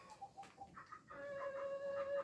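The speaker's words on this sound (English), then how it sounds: "Yeah, chickens." Chickens cluck softly nearby in short bursts, followed by a longer drawn-out tonal call; quiet overall.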